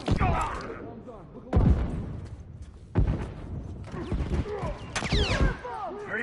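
Heavy rifle shots in The Last of Us, several sharp booming reports spaced a second or so apart, close and loud, mixed with shouted voices and combat chatter.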